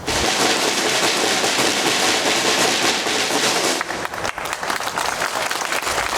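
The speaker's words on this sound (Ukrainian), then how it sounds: "Большое плескаем." Loud, dense applause fills the hall at the opening ceremony of a university cyber intelligence and security innovation centre, sustained clapping that thins into scattered claps near the end.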